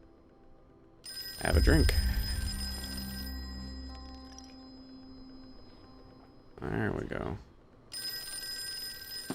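Old-style telephone bell ringing in the Call of Cthulhu video game, two separate ring bursts standing out clearly over a quiet ambient background, with someone talking over it.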